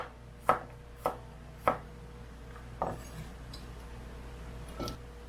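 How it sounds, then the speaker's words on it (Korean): A knife strikes a cutting board about five times in a sparse, uneven rhythm while cutting chayote for pickle, each chop sharp and close against a low, steady background hum. "마음대로 자르셔도 돼요. 자르고 싶은 대로."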